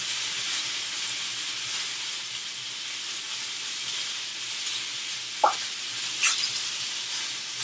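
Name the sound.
butter sizzling in a hot pan for steak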